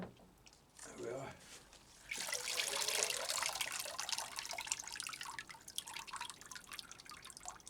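Water drips and trickles from a freshly watered Phragmipedium orchid pot set aside to drain, a steady close patter that grows busier after a brief lull, with a voice speaking partway through.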